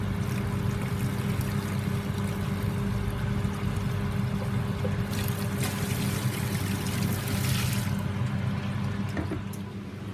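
Hot sparge water poured onto a sparge plate over the grain in a mash tun while brewing mild beer, a steady continuous splashing rush held close and fairly loud throughout with no talk.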